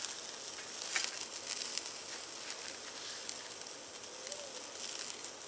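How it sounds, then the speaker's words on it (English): A bone-in ribeye, a cowboy steak, sizzles on a Lifedoo portable grill with a steady, close hiss and scattered small pops and crackles throughout. "we're going to throw this bone-in ribeye, some folks call it a cowboy steak, on the Lifedoo as our test"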